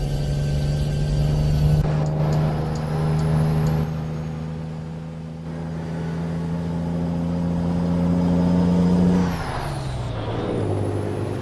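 A truck engine in a trucking video game rumbles loudly and climbs steadily in pitch as it revs, then drops sharply and settles at a lower, steady tone near the end.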